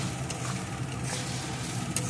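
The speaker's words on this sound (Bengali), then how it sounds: "চিনিটা দিয়েও আর একটু নেড়ে নেব।" Chilli paneer sauce is stirred in a pan after sugar is added: a steady, close sizzle with soft scraping strokes that runs without a break, with no voices.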